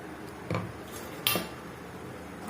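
A spoon knocks and scrapes against a metal pot of tomato sambar in a few quick, separate clinks over a quiet background.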